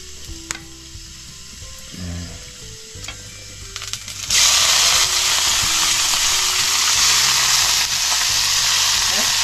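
Chicken innards such as liver and intestines sizzle loudly in hot oil, a steady bright frying hiss that swells after a few seconds, with a ladle scraping and stirring amid background noise.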